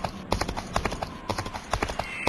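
Horse hooves gallop in a steady, rapid clip-clop rhythm in the Western video game West Gunfighter. The hoofbeats are close and clear, with no talking over them.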